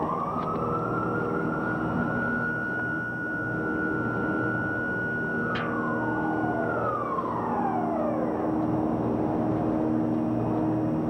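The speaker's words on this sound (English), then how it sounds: "Here's another siren." A warning siren sounds ahead of the demolition of the Stowers Tower building, a steady, sustained wailing tone that holds for several seconds before sweeping downward, heard over constant outdoor background noise.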